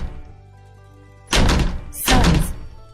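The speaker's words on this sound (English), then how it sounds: "Just then came a loud banging at the door." Two loud, heavy bangs strike a door, each a sharp thumping burst close by, following a low quiet hum.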